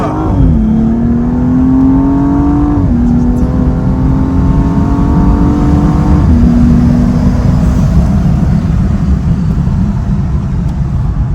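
A tuned BMW M235i accelerates hard from inside the cabin, its engine note climbing loudly through gears with two quick shift drops before settling into a steady roar, no voices over it.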